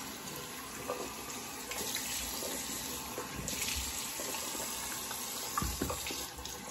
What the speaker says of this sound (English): Cold water rinse today.